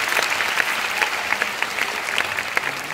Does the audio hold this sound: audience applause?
yes